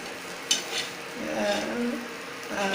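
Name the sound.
frying dried prawns with ginger paste and turmeric in a pan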